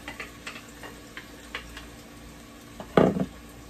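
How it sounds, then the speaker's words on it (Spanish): Chopped vegetables dropped into a pot of simple shrimp broth, a cluster of soft splashy clatters near the end after scattered light ticks and stirring clinks, close and moderately loud. "Y vamos a proceder a agregarle la verdura también. Agrego mi verdura."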